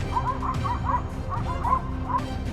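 Pack of hunting hounds in pursuit of a large wild boar, yelping and baying in quick, overlapping bursts that sound fairly close, with a rumbling background beneath them.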